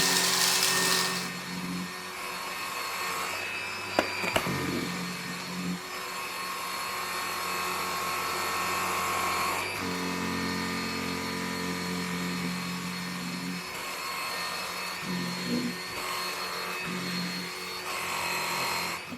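A Gtech Pro cordless bagged vacuum cleaner runs over carpet in eco mode, giving a steady, fairly quiet motor whir with small shifts in pitch and a brief knock partway through, no talking.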